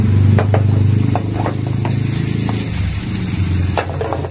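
Rice and cabbage fry in a pan for beef chao fan, a continuous close sizzle with clinks and scrapes of stirring and a low hum underneath.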